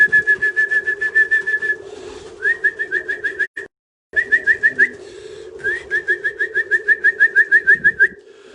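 Racing pigeons arriving at the loft during a one-loft race, with a steady low cooing murmur beneath bursts of rapid, evenly spaced high chirps repeating in runs with brief pauses.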